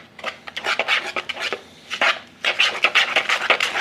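Carp fishing boilie base mix is worked by hand in a bowl, giving close, irregular scraping and rubbing bursts with short pauses, loud and dry, no talking.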